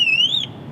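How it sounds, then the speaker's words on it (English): A Pandora Smart Moto motorcycle alarm sounds a loud, sustained electronic wail that sweeps slowly up then drops away, cutting off partway through and leaving a low background rumble. "Basically, it's the alarm that you've been hearing in the background."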